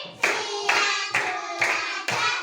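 Five sharp claps from a group of pupils in a classroom, evenly spaced about half a second apart, each a loud broadband burst with a short decay.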